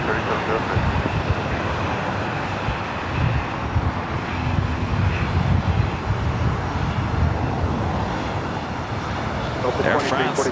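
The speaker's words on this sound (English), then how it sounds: "Air France 777 at 300 ER, taking off 25 right there on the south side" An Air France Boeing 777-300ER takes off from runway 25 right at LAX, a loud steady jet roar with wind buffeting the microphone.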